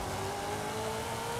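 A 2003 Mustang SVT Cobra with a supercharged engine, drag-tuned in Forza Horizon 5, roars in a steady, loud drone with no pauses.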